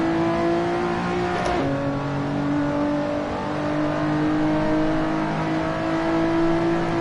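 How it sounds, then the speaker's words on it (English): A Lotus Exige V6 Cup car in Assetto Corsa drones at a steady, loud engine note around Silverstone GP, with a brief dip in pitch partway through as it loses power before settling into a sustained hum. "Why did my car just lose power?"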